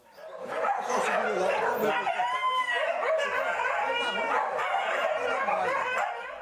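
Dogs bark repeatedly nearby, overlapping and excited, with a rooster crowing somewhere amid the commotion.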